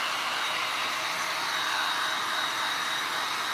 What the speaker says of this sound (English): If you don't have a heat gun, you need to get one.